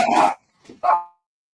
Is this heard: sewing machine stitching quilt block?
no